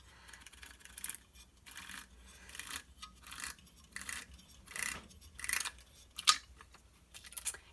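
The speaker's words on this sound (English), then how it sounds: "So I'm going to use a crimper and crimp this." A paper crimper working card circles for scrapbook crafting, a series of soft rhythmic crunching and scraping passes, close up and fairly quiet, with no talk.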